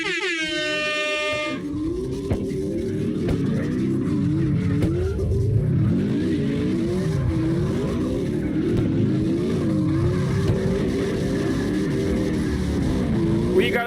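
Several cars drifting together in a three-car tandem in CarX Drift Racing Online, engines revving and wailing in overlapping sweeps with tire noise, steady and loud throughout after a brief horn-like tone at the start.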